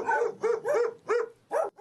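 Stray dogs at an animal shelter bark in a quick series of five sharp, fairly close barks with short gaps between them.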